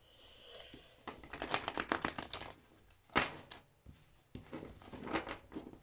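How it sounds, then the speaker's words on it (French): Oracle cards being shuffled by hand, soft papery riffling and flicking in quick clustered bursts with brief pauses between, close and fairly quiet. "Je vais mélanger les cartes."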